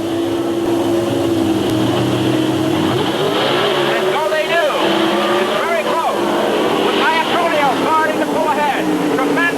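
Two Chevrolet Camaro pro stock drag cars at the 1982 NHRA Winternationals, loud engines roaring and rising in pitch as they launch down the quarter-mile, with a commentator talking over the steady, dense engine noise.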